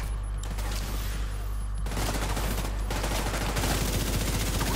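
Rapid gunfire in The Division 2 at the Air & Space Museum, loud dense bursts of automatic shooting running continuously with no pause.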